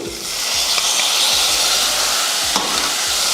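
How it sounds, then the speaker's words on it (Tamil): Tomatoes sauté in hot oil with turmeric for a Sunday nonveg dish, a loud continuous sizzle and hiss punctuated by regular spoon scrapes across the pan. "இதையும் நல்லா வதக்கிடலாம் தக்காளியும் பார்த்திங்கன்னா நல்லா வதங்கிடுச்சு"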